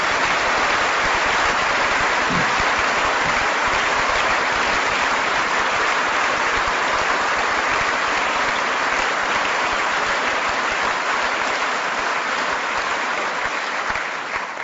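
Sustained, loud applause from a large crowd of delegates at the SNP autumn conference in 2011, a dense wall of clapping that holds steady for the whole stretch and thins only slightly at the very end.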